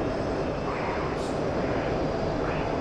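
Roaring jet engine of a Mirage F1 in the DCS flight simulator, a continuous loud broadband rumble with slight swells and no pauses.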